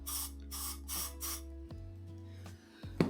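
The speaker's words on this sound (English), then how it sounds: "we're going to spray a little bit of glue in there" Glue sprayed from an aerosol can into a lid, several short hissing bursts in a steady rhythm, close and fairly quiet over a low hum, followed by a few faint clicks.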